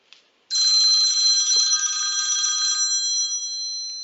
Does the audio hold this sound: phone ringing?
yes